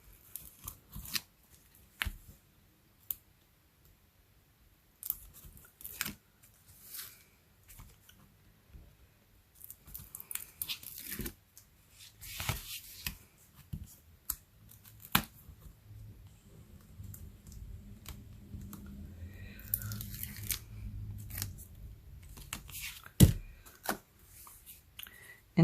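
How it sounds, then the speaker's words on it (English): Paper backings are torn off small die-cut paper pieces with a pick tool, giving scattered soft rips, snips and clicks that come in brief bursts across a quiet background. "let's take our pick tool and just tear the backings off"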